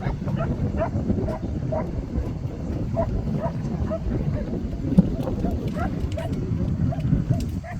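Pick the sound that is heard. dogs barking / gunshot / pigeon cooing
dogs barking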